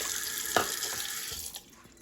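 Water runs from a tap into a sink in a steady, close splashing stream with a brief sharper splash, then thins and quiets as the flow is cut near the end.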